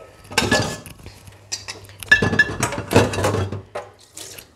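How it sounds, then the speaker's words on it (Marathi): Dishes and cutlery clatter and clink as they are arranged in the racks of a Siemens dishwasher, with running water in the background and repeated close knocks of plates and pans through the clip. "ते ठेवते मी अशा पद्धतीने भांडी मी अरेंज करते ह्याच्यामध्ये"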